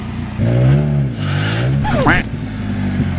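A lowered stance car's engine revs hard while it creeps onto wooden blocks, its bumper catching and the engine close to stalling; the deep harmonic engine note rises and dips up close, with brief scraping and a squeal.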